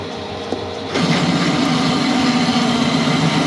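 An electric drill bores out a part on an Ironhead Sportster springer chopper. After a short quiet moment it spins up into a steady, close, continuous motor whine with a faint squealing edge that holds to the end.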